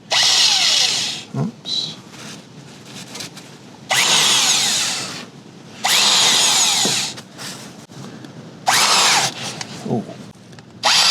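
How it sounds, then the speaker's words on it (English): A power drill with a large bit bores into steel while an old 12,000-hour bulldozer undercarriage is being repaired, running in four loud bursts of several seconds each with pauses between, and a voice speaks briefly in the gaps. "I think I'm free to proceed with the big drill bit."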